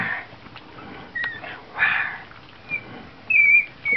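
Newborn puppies nursing give high, thin whimpers and squeaks, a few short separate cries spread over several seconds, fairly close and faint against quiet room noise.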